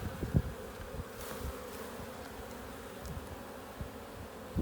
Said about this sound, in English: I'm going to shake the bees into the box.